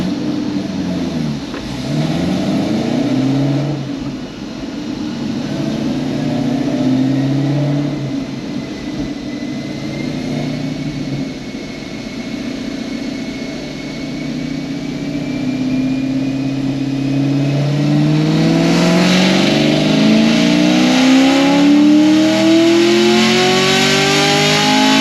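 A car engine fitted with an MSD intake manifold and throttle body revs repeatedly on a dyno, the pitch sweeping up and down through loud, sustained pulls, with no voices.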